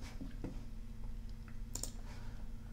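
A few sparse, faint mouse clicks on a web page button, scattered over a steady low background hum.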